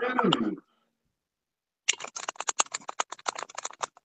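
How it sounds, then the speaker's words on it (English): Quick, irregular clicking from typing on a computer keyboard follows a brief voice and a short pause, the keystrokes sounding close and crisp. "she's typing"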